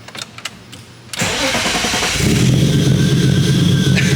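An ITB-swapped BMW S52 engine in an E30 fires up for the first time on a dyno: brief cranking clicks, then a sudden catch and a loud, steady idle settling in.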